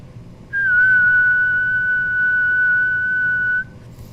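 A single steady, fairly high whistled tone held for about three seconds, clear and close, with quiet background before and after.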